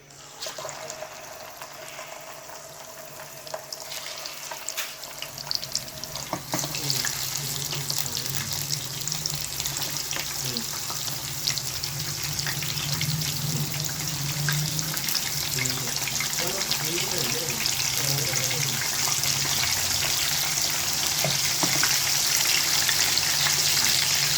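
Fish frying in a generous amount of hot oil for a crispy fish fry, a steady broadband sizzle that grows louder after the first few seconds and continues evenly throughout, with no talking.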